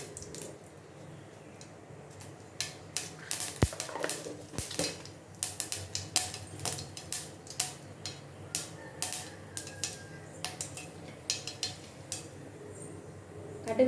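Mustard seeds pop and splutter in hot oil in a pan while coconut chutney is being made, giving irregular sharp crackles that come more often as the clip goes on, close by.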